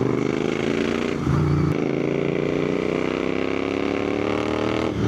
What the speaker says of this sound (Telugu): ఎగ్జాస్ట్ నోట్ బాగుంటుంది